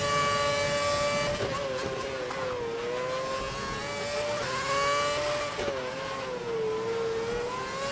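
Formula 1 cars from the F1 2011 racing game howl through the final lap at Silverstone, a loud high-pitched engine whine that rises and drops with gear changes and throttle lifts, steady throughout with no talking.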